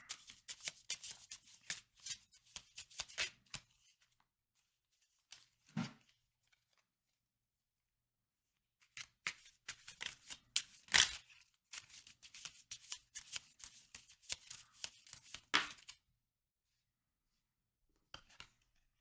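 Tarot cards are shuffled in brisk, crisp riffling bursts close by, with a long quiet gap in the middle before the shuffling resumes and a last short flutter near the end.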